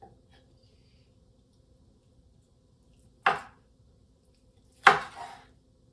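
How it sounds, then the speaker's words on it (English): Two sharp knife chops cut through roasted red onion on a cutting board, each a brief crisp thud, spaced well apart against a quiet kitchen background, with no talking. "the last thing I need to cut are my onions here"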